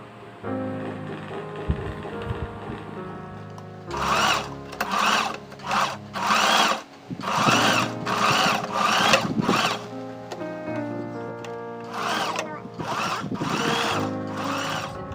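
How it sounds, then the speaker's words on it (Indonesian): Sewing machine stitching collar fabric for a traditional Kadazandusun garment, bursts of rapid mechanical whirring in stop-start runs over a sustained hum, near and fairly loud, no speech. "Sekarang kita akan jahit kain bahagian lidah baju."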